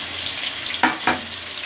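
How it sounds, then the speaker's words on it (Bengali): Rohu fish pieces fry in hot oil with a steady hissing sizzle and two sharp spattering bursts near the middle, heard close and alone. "আমি যে মাছগুলো ভেজে নিব, একটু ফোস করে 3 মিনিট করে ভেজে নিব মাছগুলো"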